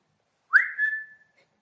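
A person imitates a phoebe bird's call by whistling: one soft, clear, rising note that holds briefly and then fades, heard alone in silence.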